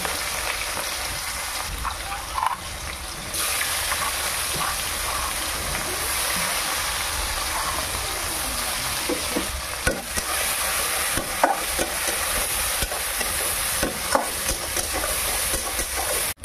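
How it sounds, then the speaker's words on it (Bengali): Onions frying in a pan for a home-cooked lunch, after potatoes were taken out, a steady close hiss of sizzling oil with occasional stirring scrapes and small pops throughout. "পেঁয়াজটা ভাজা হয়ে গেছে"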